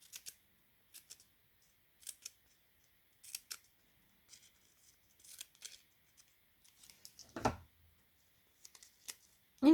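Scissors snip through paper around a motif on a Christmas bauble craft project, short crisp cuts in irregular bursts with pauses between, close and fairly quiet, with no talking.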